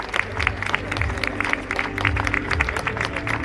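Audience applause at a race awards ceremony for a cycling grand prix in A Coruña, a steady patter of clapping hands from a modest crowd, with faint voices beneath.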